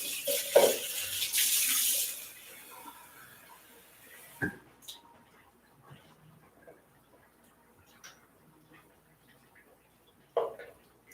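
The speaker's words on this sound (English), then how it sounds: "Then I'm gonna add more water." Water is poured from a tap into a pot of egusi (melon seed) soup during cooking, a loud gushing rush for about two seconds, followed by quieter kitchen clatter and a few sharp knocks.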